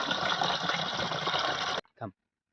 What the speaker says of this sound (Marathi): त्याच्यानंतर पुन्हा पाणी टाकायचं त्याच्यामध्ये